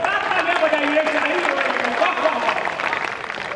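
An audience at a poetry recital claps in a dense, steady wash of applause that holds for a few seconds, with a raised voice showing faintly over it.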